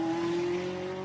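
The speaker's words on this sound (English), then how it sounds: "Julian Adler came out of the pit lane very hot indeed" A Porsche race car exits the pit lane at speed during Super Pole qualifying at the Spa 24 Hours, its engine a steady, sustained drone held at one pitch, fairly distant and continuous for about a second.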